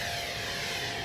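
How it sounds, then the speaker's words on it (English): A small FMS Futura 64mm electric ducted-fan RC jet upgraded to 6S power roars past in a high-speed dive, giving a steady, loud whooshing whine for about a second. "Just see how fast I can make this little plane go."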